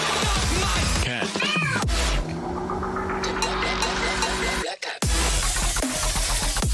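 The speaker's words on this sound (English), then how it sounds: "Cat." A cat meows in a game-like audio mix, pitched cries stacked over loud continuous music and a steady engine-like drone, with a brief dropout near the end before the sound resumes.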